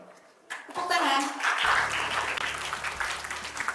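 Audience applause at an Indonesian school quiz competition after a correct answer, a broad wash of clapping that swells in and holds steady, with a low hum and some voices mixed underneath.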